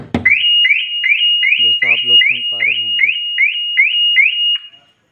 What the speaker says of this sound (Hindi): तो इसी तरह का अलार्म आपकी गाड़ी में बजने लगेगा